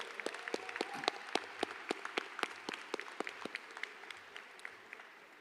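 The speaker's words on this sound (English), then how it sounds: "Can you all just give them a round of applause for having to help endure through this process?" Audience applause at a high school commencement ceremony, scattered distinct claps that thin out and fade, heard faintly from a distance in a large venue.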